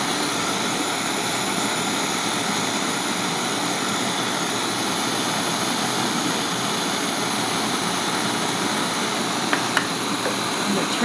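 Steady roaring rush of an air-and-gas torch flame blowing continuously, a dense broadband hiss with a low rumble, close and loud throughout with no break.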